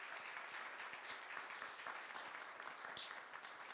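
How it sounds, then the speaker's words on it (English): Audience applause at an evening fireside chat event, a steady dense wash of many hands clapping that stays fairly faint and even throughout, with no voices breaking through. "give some applause to all of the folks who have stood on the stage this evening"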